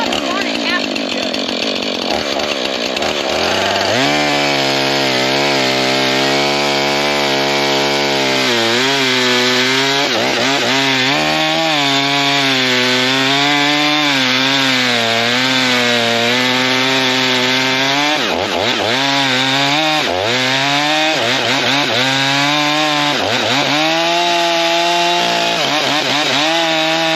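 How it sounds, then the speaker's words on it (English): Battery-powered chainsaw cutting into a fallen tree, a loud close whine that rises and dips in pitch as the chain bogs into the wood, running continuously with brief speed changes. "That's a battery powered one."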